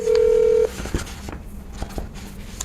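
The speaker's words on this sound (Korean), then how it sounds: "지금 전화 연결 한번 해보겠습니다." Telephone dialing tones as a call is placed during a Korean political talk broadcast: a steady tone for about half a second, then softer, fainter tones and line noise. Nobody speaks.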